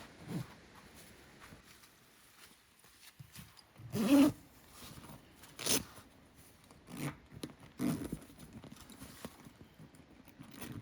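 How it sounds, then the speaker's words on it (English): A zipper on overlanding camp gear is worked around a corner in a few short, rasping pulls separated by pauses, close and quiet, with no voices. "getting around the corner with the zipper is not a big deal."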